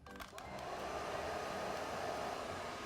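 A hair dryer blows steadily while heating and styling bangs, a constant close whooshing hum that starts after a few brief handling knocks.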